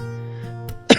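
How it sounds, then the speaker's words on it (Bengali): A person with a cold gives a single short, sharp cough near the end, following a steady low hum in a home kitchen. "কাশিও হয়েছে"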